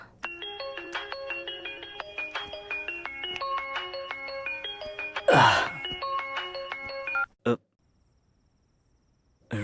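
A mobile phone rings with an incoming call, a repeating electronic ringtone melody that plays steadily and fairly loud, broken by a brief burst of noise near the middle, then cuts off into near silence.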